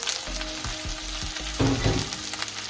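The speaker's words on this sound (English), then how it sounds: "So the okra and the onion and a piece of scotch bonnet pepper. So leave it there, let it simmer." Okra, onion and a piece of scotch bonnet pepper bubble and sizzle in a pot for an ackee and saltfish dish, a steady close frying hiss with a few soft stirring knocks and a louder burst of spatter near the end.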